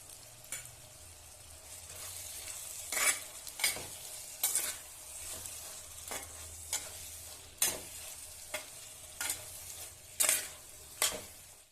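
Two medium tomatoes frying with drumstick pieces in a pan for an egg-drumstick curry, a soft steady sizzle broken by repeated scraping stirs of a spoon at irregular intervals, quiet and close.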